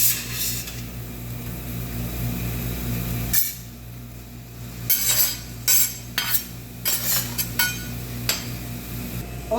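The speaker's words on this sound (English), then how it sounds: "और beef and vegetable saute हो गया." Beef with onion and pepper sautés in a pan, a steady frying hiss at first, then a pause, then sharp metal spatula scrapes against the pan in quick irregular bursts.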